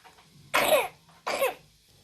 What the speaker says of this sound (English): 3 months old and coughing in his crib